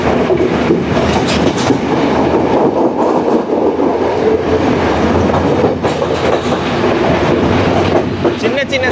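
A Colombo to Jaffna intercity train runs at speed, a loud continuous roar with rhythmic clatter of wheels on track and occasional squeals, heard from inside the carriage.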